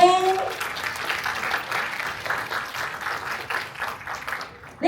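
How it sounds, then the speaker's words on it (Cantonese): An audience claps through a film press conference in Hong Kong for the cast of Cold War 1994, a dense, steady patter of many hands that fades toward the end, with some voices underneath. "我哋有請監製何韻明 Ivy Ho 上台介紹韓戰1994嘅強勁陣容，唔該晒，掌聲有請。"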